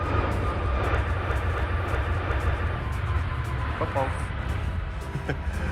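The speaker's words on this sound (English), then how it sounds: "That's a good noise to hear, aircraft engine noise." Aircraft engine noise near an airfield with runway 12 in use: a steady, low, continuous rumble from a distance, with people talking over it.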